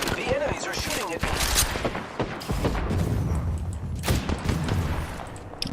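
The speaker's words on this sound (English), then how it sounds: "The enemies are shooting at me." Enemy gunfire in Apex Legends rattles in fast, dense bursts with heavy booming shots throughout, loud and continuous, as a player speaks over the battle.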